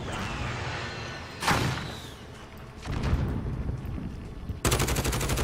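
Gunfire from a weapon in the video game Warzone, with a sharp burst near the middle, a rattling volley later and a dense run of rapid shots at the end, all set in busy game sound.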